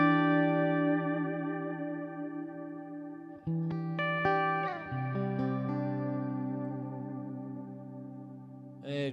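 Electric guitar chords ring out through a Kemper amp's pad reverb, a lush, smeared wash of sustained notes with long tails, played alone with a few chord changes.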